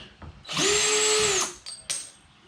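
A power drill backs a self-tapping screw out of a ZL1 Addons front splitter with rods on a Chrysler 300, giving one close, loud, steady whine of about a second, followed by a few short clicks and taps.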